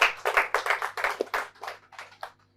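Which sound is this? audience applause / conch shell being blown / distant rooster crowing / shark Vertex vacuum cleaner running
audience applause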